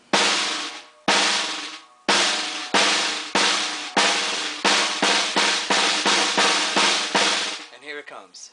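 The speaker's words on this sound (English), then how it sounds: "And that is the multi-bounce roll." A snare drum played as a series of multi-bounce buzz rolls, about a dozen dense buzzing strokes in a steady rhythm, each sharp onset fading quickly, close and loud with no talking.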